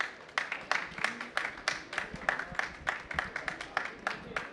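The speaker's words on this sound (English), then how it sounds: "So big applause for all the speakers." Sparse, quiet clapping from a small audience closing a finance session at the COP29 climate conference, with individual hand claps distinctly separated in an uneven, loose rhythm.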